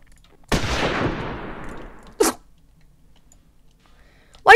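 A single sharp gunshot in a game rings out with a long decaying tail, followed later by two brief sharp bursts.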